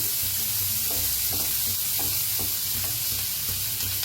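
A Mysore dosa roasts on a hot pan with a steady, close sizzle and frying hiss, broken by a few soft scraping and stirring touches, with no voices.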